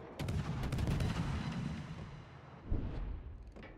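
120 mm naval guns boom in World of Warships, a heavy rolling salvo near the start followed by another sharp report, with whooshing shell sounds trailing off.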